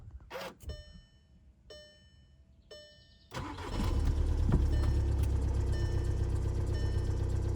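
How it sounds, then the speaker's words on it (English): A 2014 VW Passat TDI diesel engine cranks after a few clicks and light handling noises, catches and settles into a steady, rattly idle that runs on, close and alone. "So I'm gonna start it, let it idle for a minute"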